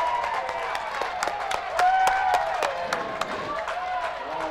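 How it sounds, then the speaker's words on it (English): Crowd at a high school girls' basketball game applauds the referees, a steady mix of clapping and cheering with sharp claps and squeaks under an announcer's voice. "The referees get a round of applause"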